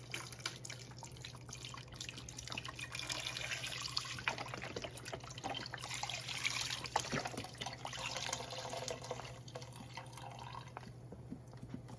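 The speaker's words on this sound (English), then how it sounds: "I have Progresso vegetable broth, so I'm going to add that. A whole container." Progresso vegetable broth poured from a container into a soup pot, a soft continuous liquid trickle and splash, fairly faint and close, with a low hum underneath.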